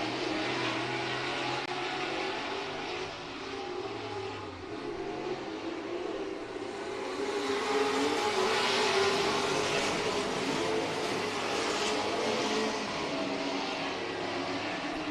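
Race cars roar around the Hibbing Speedway track in a continuous, dense wash of engine noise, rising slightly louder midway as the pack passes closer, with no talk over it.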